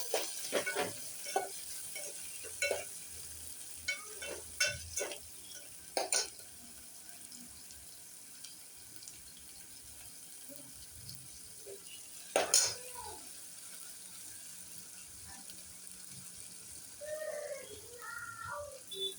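Tomatoes with salt frying in a pan for Maharashtrian masoor amti, giving a low steady sizzle broken by sharp clinks and scrapes of a spoon stirring against the pan.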